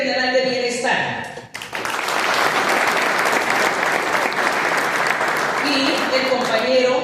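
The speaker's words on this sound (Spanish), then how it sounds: "¿Qué fue el aplauso para ellos?" Conference audience applauding loudly and steadily for several seconds, broad dense clapping after a brief lull, with speech heard before and after the burst.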